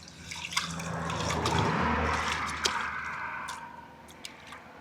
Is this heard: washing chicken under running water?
yes